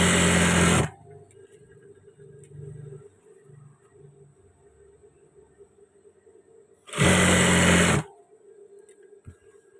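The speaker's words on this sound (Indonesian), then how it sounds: "Dan ini kita kunci yang kuat untuk awal jahitan agar tidak lepas jahitan." A sewing machine stitches a trouser seam in two loud, continuous whirring bursts of about a second each. A low mechanical hum and faint clicks fill the pause between them.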